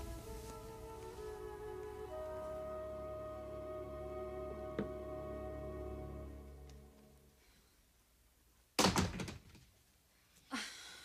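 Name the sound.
door being slammed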